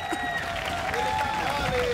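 Crowd at a Karate Combat fight cheering and applauding steadily beneath an excited announcer's commentary, with sustained tonal noise running throughout.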